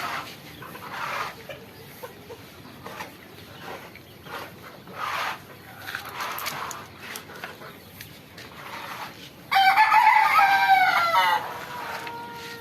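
Chickens cluck intermittently, faint and close, in a small four-compartment coop on a farm in Madhupur, then a loud crow rings out near the end before the clucking resumes.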